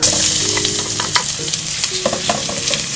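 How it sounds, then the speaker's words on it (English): Garlic sautéing in about two teaspoons of oil over medium-high heat, a steady close sizzle broken by scraping stir strokes and a few clinks of the utensil against the pan. "I'm about to saute my other vegetables, starting with my garlic."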